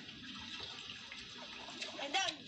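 Water poured into a small aquarium, a soft, faint splashing trickle that swells briefly near the end.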